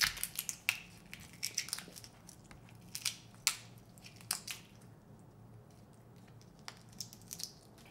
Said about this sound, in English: The shrimp, just remove the all shells.